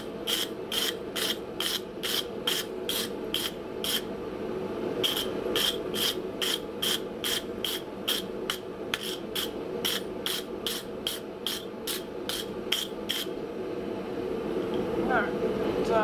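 Rust being scrubbed off a steel block for a London pattern anvil build, heard as a long run of rhythmic rasping strokes, close and steady, with a brief pause partway through.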